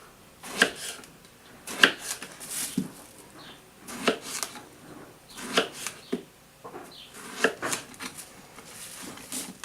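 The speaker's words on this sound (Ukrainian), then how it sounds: "Баклажан так само нарізаємо як кабачок." Knife chopping eggplant into pieces on a board for grilled vegetables, a string of sharp separate cuts in uneven bursts, close and fairly loud with no talking.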